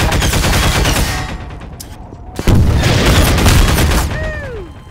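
Heavy gunfire and explosive booms during a tank attack in Half-Life 2 Episode One, loud and continuous rapid fire that briefly drops, then resumes with a sharp blast, ending with a descending whine.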